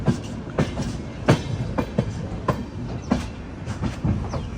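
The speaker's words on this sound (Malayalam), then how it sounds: "കച്ച് എക്സ്പ്രസ് ഇവിടുന്ന് ഇതാ എടുത്തിട്ട് പോയിരിക്കുകയാണ്." The Kutch Express pulls out of Gandhidham station, its wheels striking rail joints in a steady rhythmic clickety-clack of sharp knocks, heard from on board with no speech.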